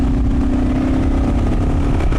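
A Kawasaki KLR650 motorcycle engine with an aftermarket exhaust fitted with a quiet insert runs steadily nearby, a continuous mid-pitched thrum with a low, even drone and no voices.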